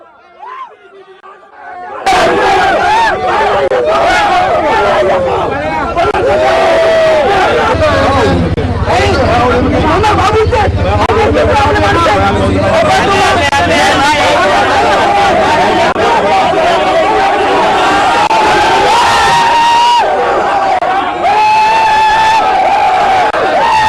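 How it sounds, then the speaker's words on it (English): A protesting crowd gathered at temple premises; loud, dense crowd noise with overlapping shouts and chatter starts after a quieter opening moment and stays heavy throughout, with some sharp bangs. "where he faced protests from the gathered crowd"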